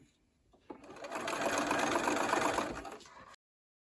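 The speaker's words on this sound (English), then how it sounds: "Continue stitching in this manner until all the rows have been stitched together." A sewing machine runs steadily for about two and a half seconds, stitching rows of granny squares together for a table topper, then stops abruptly.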